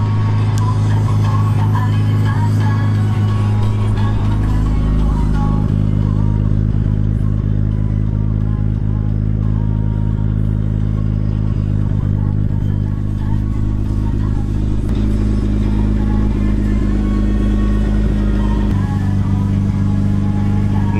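A Nissan Skyline R33 GT-R twin-turbo 2.6-litre engine idles steadily with a deep, smooth rumble, close and constant throughout, with faint clatter and no talking.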